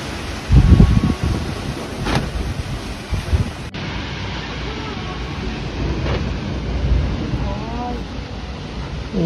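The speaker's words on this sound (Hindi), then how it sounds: "बहुत ज्यादा तेज हवा चल रही है." Strong gusting wind from a duststorm in Delhi roars and buffets the microphone, with heavy low rumbling bursts early on and a constant blustery rush throughout.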